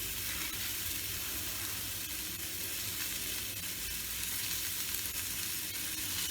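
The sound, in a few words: onion sizzling and frying for fish curry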